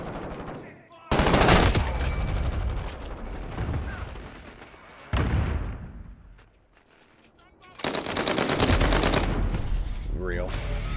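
Heavy automatic gunfire in Call of Duty: Modern Warfare (2019) comes in three loud, sustained bursts separated by quieter stretches of lingering echo and scattered shots, with a voice talking faintly underneath.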